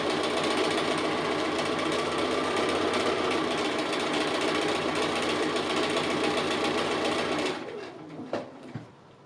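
Sewing machine running continuously while stitching appliqué house roofs, a steady close mechanical whir for about seven and a half seconds before it stops and a few faint clicks follow.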